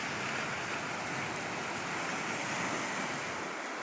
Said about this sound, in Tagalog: Ang ganda ng alon oh.